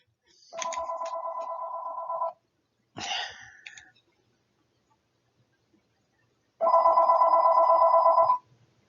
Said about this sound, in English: I will let it quit ringing here.